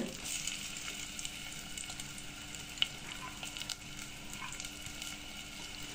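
Onions fry in oil with cumin seeds in a pot for an oyster mushroom curry. A soft, steady sizzle crackles throughout, close but quiet, with one sharp pop near the middle and no talking.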